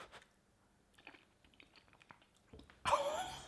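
Someone chews a mouthful of cauliflower cheese with gravy and crunchy panko crumbs close up, with soft wet bites and small crunches, followed by a louder breathy exhale or murmur of enjoyment at the end.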